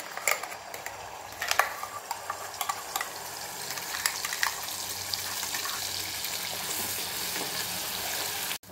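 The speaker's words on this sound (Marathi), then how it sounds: "आता या तेलामध्ये हे वाटण घालायचं" Spice paste for a bean-pod curry hits hot oil and is stirred, a close, steady sizzle broken by scraping and clinks from the spoon, holding loud to the end.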